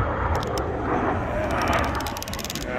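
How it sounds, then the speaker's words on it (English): A fixed-wing airplane passes overhead in a steady broadband roar that holds level for about three seconds, with faint voices murmuring beneath it. "I caught that plane coming up."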